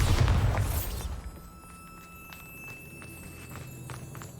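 A Bombarda blasting spell in the Hogwarts Legacy video game goes off with one loud, close explosion at the start, then fades into a quieter rumbling ambience with scattered faint clicks.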